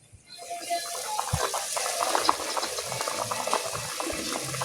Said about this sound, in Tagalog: Yan, gumulo na siya.